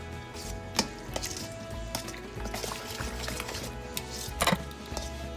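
Tortilla dip is stirred in a container with a utensil, soft wet slapping and scraping with occasional sharp taps against the sides, close and fairly quiet with no talking.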